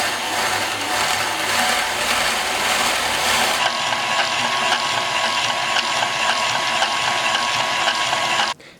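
A KitchenAid stand mixer at speed 4 with a slicer attachment slicing carrots: a loud continuous whirring grind, rougher while cutting early on, then a steadier motor whine until it cuts off.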